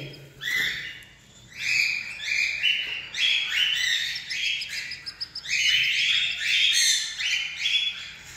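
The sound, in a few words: birds chirping in a backyard bird colony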